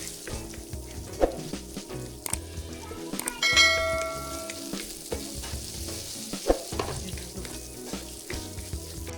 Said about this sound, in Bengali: কুচি করে নেওয়া কাঁচামরিচ দু থেকে তিনটি ভালো করে ভেজে নিয়ে চুলা বন্ধ করে দিব